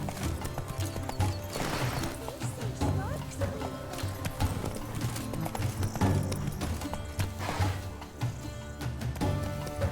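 Roach, a horse in The Witcher 3: Wild Hunt – Blood and Wine, gallops with a steady clip-clop of hooves under ongoing game music and ambience, while a voice speaks over it.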